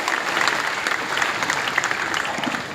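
A seminar audience bursts into loud, sustained applause, a dense wash of many hands clapping continuously at close range for the whole stretch, with no voices over it.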